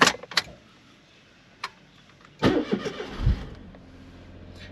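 A car with a freshly charged, repaired battery starts up after a few clicks and a jangle of keys: a brief cranking burst, then the engine catches and settles into a low, steady idle nearby.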